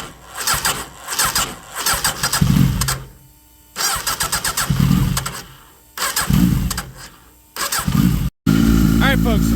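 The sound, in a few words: Suzuki Hayabusa motorcycle engine starting with Max ECU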